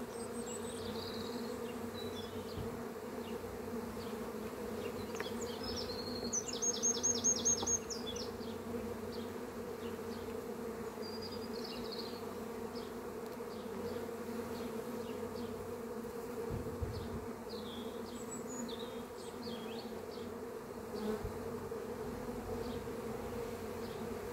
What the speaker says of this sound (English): That's a little baby bee rubbed up in pollen.